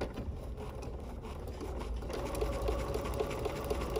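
A sewing machine stitches around a fabric butterfly body, its quick, steady mechanical chatter running throughout and growing louder and more rhythmic in the second half.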